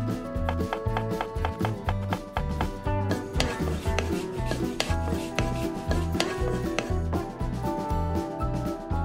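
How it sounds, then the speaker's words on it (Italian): Cheese being grated for a pasta dish, a steady run of rhythmic rasping strokes against the grater, close and fairly loud, with no voices. "Grattugia il formaggio"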